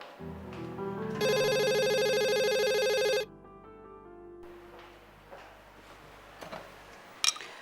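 A telephone rings indoors with a steady electronic ringtone lasting about two seconds, then stops, leaving quiet room tone with a few faint clicks and a sharp knock near the end.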